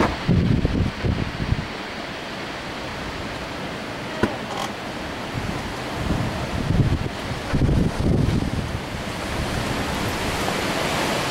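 Gusty wind roars outdoors near trees on a moose hunt in autumn, a continuous broadband rush with stronger surges buffeting the microphone, loud and steady with no voices.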